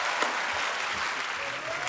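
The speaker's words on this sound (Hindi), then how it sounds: "एक बार जोरदार तालियां मीत ब्रदर्स की" A studio audience at a comedy show applauds, with dense, steady clapping throughout.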